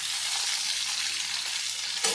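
Chopped tomato sizzling in a hot pan for a Bengali prawn malai curry made without coconut, a steady close frying hiss with a faint stir near the end.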